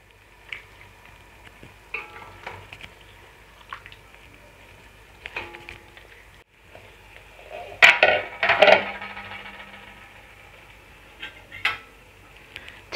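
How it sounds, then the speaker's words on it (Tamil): Marinated chicken is stirred with masala, tomato and mint in a pan for Kashmiri chicken biryani, giving soft, scattered squishes and scrapes, with a louder burst of stirring midway. "சிக்கன் ஃபுல்லா மசாலா படுற மாதிரி கிளறி விட்டுப்போம்"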